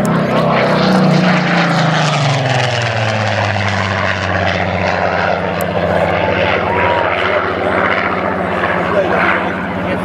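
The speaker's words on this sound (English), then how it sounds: "In a high-speed pass, over 400 miles an hour is Jim Beasley and the Spitfire." A Spitfire Mk XVIII with a Merlin engine makes a high-speed pass at over 400 mph at an air show, a loud propeller roar whose pitch sweeps down as it passes, then fades into a lingering drone.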